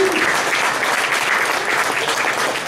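An audience at a SaveTheCrew meeting claps steadily and densely, a sustained round of applause heard close and loud from start to finish.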